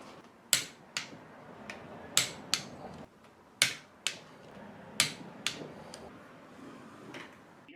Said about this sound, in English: I'm going to torque these to 30 foot-pounds